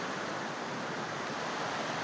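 River flowing beside a school campus: a steady, broad rushing wash of water, close and continuous, with no voices.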